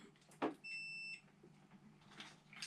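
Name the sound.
multimeter continuity bleep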